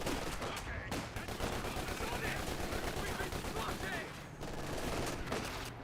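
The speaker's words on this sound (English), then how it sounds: "Looks like Grenadiers firing away." German Grenadier infantry fire rifles and machine guns in Company of Heroes 2, a dense, continuous rattle of overlapping shots with brief lulls, loud throughout.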